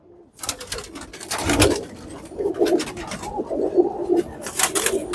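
A female pigeon held in the hand during molting coos in close, repeated soft bursts, with rustling and handling noise and little or no talk.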